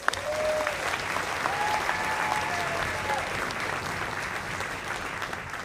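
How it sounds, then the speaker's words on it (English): A graduation crowd applauds the high school class of 2021, with sustained clapping filling a large venue and faint whistles rising above the clapping. "give them a round of applause"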